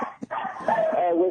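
Small dogs yip and whimper in a radio studio, high excited barks mixed with people talking over them.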